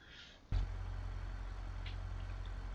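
A truck engine in the driving game BeamNG.Drive starts up abruptly and settles into a steady, deep, rumbling idle, heard alone and close.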